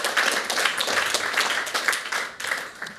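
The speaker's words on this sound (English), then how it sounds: "this is worth an applause" Applause from a crowd at a display trends forum, where NEC is presenting displays with Raspberry Pi compute modules: a continuous patter of many hands clapping at moderate level, without speech.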